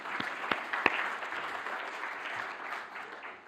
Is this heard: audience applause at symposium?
yes